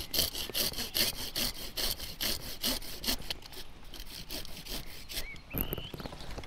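Hand saw cutting straight through an apple tree trunk low down on smooth bark for grafting, steady rhythmic back-and-forth strokes close by, slowing and stopping near the end.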